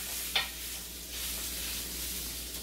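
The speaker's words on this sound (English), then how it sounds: "you can hear the sizzle" Zucchini fritter batter, about a third of a cup, frying in a pan gives a faint, steady sizzle with a brief sharper crackle near the start, continuing quietly throughout.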